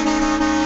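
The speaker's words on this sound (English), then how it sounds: "Mine came with a train horn." An aftermarket train horn fitted to a Scion car blares in one loud, steady, sustained multi-tone blast, close and alone without talk.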